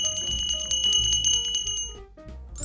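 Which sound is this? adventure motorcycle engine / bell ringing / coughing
bell ringing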